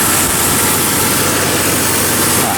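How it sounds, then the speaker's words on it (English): A 2000 Jeep Cherokee XJ six-cylinder engine idling while running poorly, a loud, close, continuous rumbling drone with steady mechanical noise and no talking. "Look at how smooth this 6-cylinder engine runs, even when it's running poorly."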